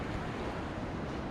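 A famous whitewater rafting river rushes below a bridge walkway on the Appalachian Trail, a loud, steady roar of churning water heard alone, with wind buffeting the microphone.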